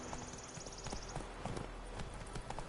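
Horse hooves clip-clop at a steady gallop across a Witcher 3 landscape, a continuous rhythmic patter of many quick strikes, fairly faint under game ambience.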